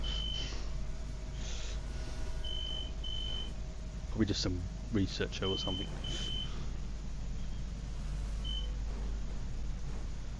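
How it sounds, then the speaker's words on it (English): A phone ringing with short repeated electronic beeps, faint and intermittent under a voice talking nearby, over a steady low background hum. "My phone's ringing, so I can't really get to the phone right now."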